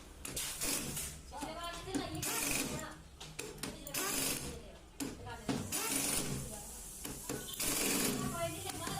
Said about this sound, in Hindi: तो बोल्ट को अच्छे से टाइट कर लेते हैं।